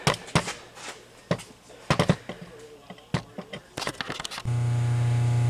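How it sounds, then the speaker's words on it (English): A phase converter in a machine shop with a mill and lathe starts a loud, steady electrical hum near the end, after a run of sharp metallic clanks and knocks. "sorry about the hum, that's a phase converter."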